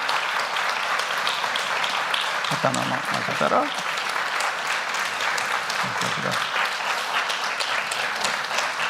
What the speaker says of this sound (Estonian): Üle 5 korra juba aplodeerisite